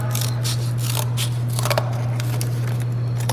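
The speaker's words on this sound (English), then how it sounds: "So I'm going to trim this down." Scissors snip through material being trimmed for a weaving loom, a quick run of close, crisp cuts over a steady low mains hum, with no talking.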